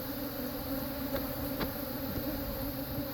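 A close, unbroken drone of honey bees swarming around a hive, with occasional single bees flying past the mic a little louder above the steady hum.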